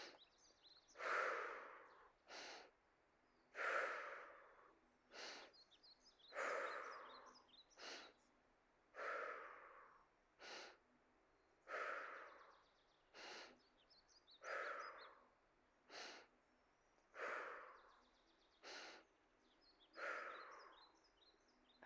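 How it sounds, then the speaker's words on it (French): Paced breathing during a cardio squat workout, about a dozen deep, regular breaths in and out, each a close, airy rush repeating every couple of seconds with quiet gaps between. "Inspirez, expirez, inspirez,"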